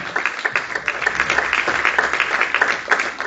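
A church congregation at a teaching meeting on prayer applauds in praise of the Lord, a dense, fairly loud burst of many hands clapping together that holds steady throughout with no voices over it.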